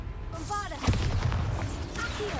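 A Bombarda spell explosion in the Hogwarts Legacy video game booms once as a loud, low burst, followed by rumbling combat effects and a few brief magical tones.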